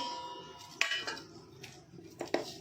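Cut bitter gourd pieces are placed into a metal cooking vessel in a home kitchen, giving a few faint, sparse clinks and taps against quiet background.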